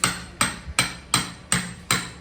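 A hammer bangs six times at a steady, even pace, each strike sharp and loud with a short ringing decay.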